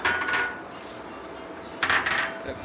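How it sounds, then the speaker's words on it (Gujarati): Mixed lentils tip into a metal pan for homemade baby cereal, with two short bursts of dry grains rattling and clattering against the metal, close and fairly loud, separated by a quiet pause. "અને હવે આપણે બધી દાળને છે ને એક કાંઈ જ નાખી દેવું. બધીને નાખી દઈશું."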